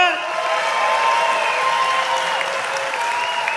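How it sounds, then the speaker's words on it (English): Audience applause at a jiu-jitsu tournament after a submission win, a steady wash of clapping from a crowd that holds level for several seconds with some speech mixed in. "And a round of applause to her opponent from Tipping Point BJJ and Crucible BJJ and Judo, Rihanna Hartwig."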